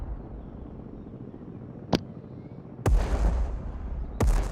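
Mortar artillery in the Broken Arrow war game booming in three heavy, separated blasts over a low rumbling battlefield backdrop, the later two louder, each followed by a rolling tail.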